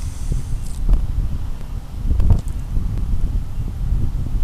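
Steady wind buffeting a microphone on a sailboat during a race, a continuous low rumble that rises and falls in gusts, with occasional faint rustling and clicks and no talk.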